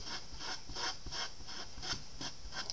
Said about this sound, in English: wet down a rag and just get rid of some of the excess glue that we can